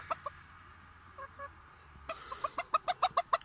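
A frizzle hen clucks close by, a few scattered soft notes at first, then a rapid run of sharp, evenly spaced clucks that grows louder.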